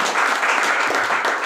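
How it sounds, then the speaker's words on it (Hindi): A loud, dense burst of audience applause at a business-plan event, many hands clapping steadily without a break. "तो जो एक बार जोरदार तालियां होनी चाहिए।"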